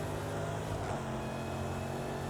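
Exotic car engine racing on dirt in a video game, a steady droning hum with a faint pitch shift partway, held at constant low loudness.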